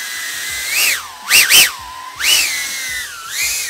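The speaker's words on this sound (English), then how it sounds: "Prop noise. Just listen to this prop." A cinewhoop drone's 3.5 inch propellers produce a loud, whining tone that swells and falls in pitch as the throttle changes, with several sharp surges and no talk over it.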